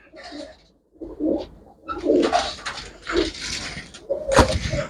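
Pigeons cooing up close, several throaty rolling coos in quick succession with soft rustles between.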